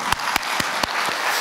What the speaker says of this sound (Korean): 하나님께 영광의 박수 올리도록